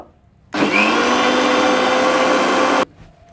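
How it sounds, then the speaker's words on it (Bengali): A blender whirs at full power mixing spinach juice with beet salt and a little water, starting abruptly, holding a loud steady whine for about two seconds, then cutting off. "এবার আমরা ঢাকনাটা দিয়ে দেবো এবার আমরা এটা মিক্সড করে নেব"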